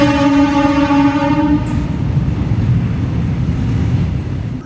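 Kacheguda-Chengalpattu Express pulling out of Kadapa station, a loud steady horn blast for the first second and a half giving way to a constant heavy rumble of wheels and carriages rolling close by.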